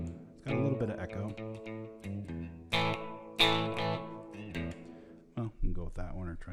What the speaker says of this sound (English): It's got a little bit of echo.